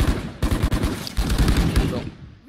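Gunfire from a Valorant match where a Marshal sniper rifle is in play: several sharp, close shots break over a dense, busy game mix with layered impacts, loud throughout the short stretch.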